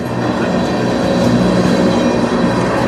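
A westbound CN manifest freight train with many tank cars, led by two SD70M-2 locomotives, rolls past nearby, a loud continuous rumble and rattle of cars with a steady low drone throughout.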